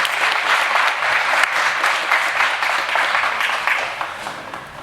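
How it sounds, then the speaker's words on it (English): A conference audience applauds at the closing session of Bridges 2016, steady dense clapping from a large crowd that stays even and sustained throughout. "At this time, I'd like all of you guys to give Bill a warm round of applause."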